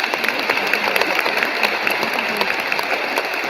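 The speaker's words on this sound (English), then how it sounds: "Let's give Josh another round of applause." Sustained applause from a crowd at a student character awards ceremony, an even wash of many hands clapping at a constant level throughout.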